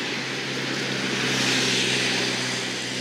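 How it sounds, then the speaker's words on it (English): A vehicle rushes past on a road close by, a broad engine and tire roar that swells toward the middle and then eases off, with no talking. "I want to apologize for the road noise."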